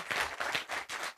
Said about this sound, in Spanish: Vamos a agradecerle con un aplauso y un reconocimiento